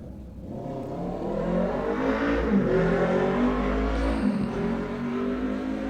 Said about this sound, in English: Let that motorcycle drive by while I think about this one last time.